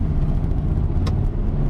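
Air-cooled VW Type 3 Fastback engine running and revving mildly, a low steady rumble that never quite climbs, close and continuous without talk.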